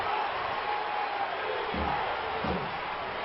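Steady roar of a large football stadium crowd at a SWAC college game in Jackson, with Jackson State Tigers fans on their feet; a continuous, dense wash of noise with a couple of low thumps partway through.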